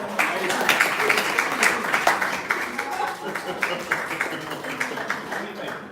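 Audience applause from a crowd greeting a woman taking the stage at a talk, a dense steady patter of clapping that lasts throughout, loud and close with some cheering mixed in.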